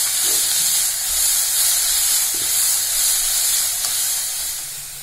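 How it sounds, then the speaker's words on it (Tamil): Sliced onions sauté in a hot pan for a ragi and vadha narayanan keerai adai, a steady, even sizzling hiss that carries on without a break for several seconds. "வெங்காயம் சேர்த்து ஒரு 2 நிமிஷம் வதக்கிக்கலாம்"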